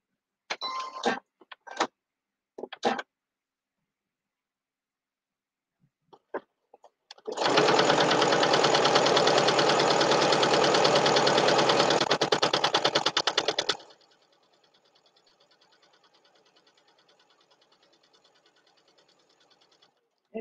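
A sewing machine stitches a fabric strip onto a quilt-as-you-go potholder in one loud, steady run of rapid needle chatter lasting about six seconds, then stops abruptly, with brief clicks before it.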